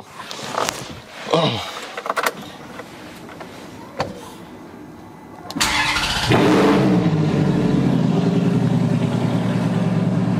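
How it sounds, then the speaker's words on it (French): A Ferrari F430 cranks and fires up, its engine catching with a loud burst and then settling into a steady, strong idle; a few clicks and mechanical sounds come before the start. "c'est parti, on démarre l'auto"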